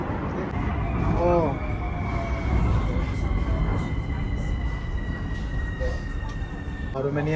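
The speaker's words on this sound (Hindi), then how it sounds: "मेट्रो ट्रेन में छी ओ" Rumbling interior of a moving metro train, steady mechanical roar with a brief rising whine early on and a faint voice or two mixed in.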